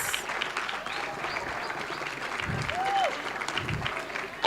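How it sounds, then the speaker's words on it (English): A conference crowd in a Johannesburg hotel applauds steadily with dense clapping, some cheers and voices mixed in, continuing throughout at moderate volume. "Let's give them a round of applause."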